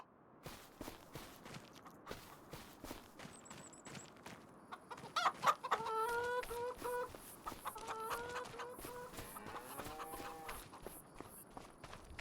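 Solid black chickens in Farming Simulator 25, a flurry of soft pecking footsteps followed by several bursts of clucking and cackling at close range, fairly quiet overall.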